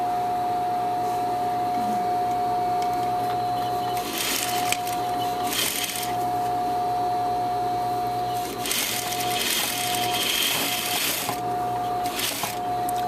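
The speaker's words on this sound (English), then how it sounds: "go to the other side and stitch it, Marsha?" A sewing machine runs in steady bursts while stitching a V-neck facing, its motor whirring continuously with louder stretches between brief pauses, close by and without talk.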